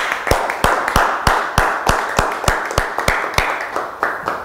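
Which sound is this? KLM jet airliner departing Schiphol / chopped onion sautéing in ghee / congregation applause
congregation applause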